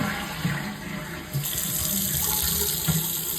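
Water runs steadily from a tap in a small, tight bathroom, a constant close hiss and splash with a few faint knocks underneath and no voices.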